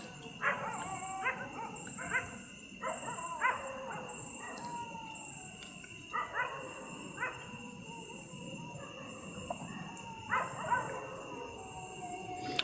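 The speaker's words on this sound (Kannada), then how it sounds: "ಒಂದು ಕಡೆ ನಾಯಿ ಯಾವ ಥರ ಬೊಗಳ್ತಾ ಇದೆ ನೋಡಿ." A dog barks and howls repeatedly at night near a forest campsite, the calls coming at intervals from a moderate distance over a steady insect-like hiss and faint background hum.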